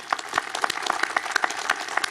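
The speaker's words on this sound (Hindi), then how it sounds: "अपनी इस उपलब्धि के लिए भी तालियां बजाएं।" A gathered audience at a ten-year anniversary celebration claps in a sparse, moderate burst of scattered individual hand claps, fairly close and without voices.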